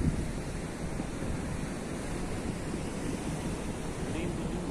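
Ocean surf at Praia da Ferrugem beach in Garopaba, Santa Catarina, a dense continuous wash of breaking waves with wind noise, loud and steady throughout.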